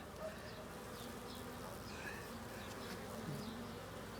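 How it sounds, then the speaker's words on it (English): Steady, close insect buzzing from bees and wasps at a package beehive, a dense continuous drone with individual insects flitting past, no talking. "Ah, the wasp got in, look."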